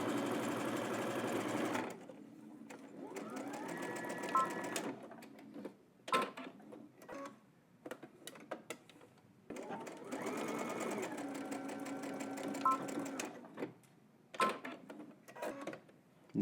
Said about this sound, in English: let's head to the machine. We're going to stitch here using 5/8 of an inch and then across the top.